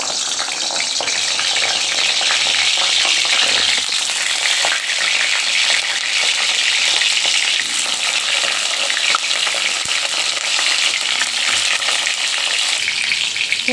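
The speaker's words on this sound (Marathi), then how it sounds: "आता आपण याच्यात वांगे फ्राय करून घेऊया" Eggplant pieces fry in hot oil for a traditional Maharashtrian salted eggplant dish, giving a loud, constant close-up sizzle with occasional stirring scrapes and no talking.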